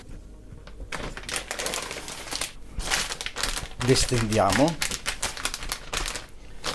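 Crinkling and rustling of a plastic sous vide bag as fried-potato pieces are placed and spread inside it, close-up bursts of crackle under someone speaking Italian.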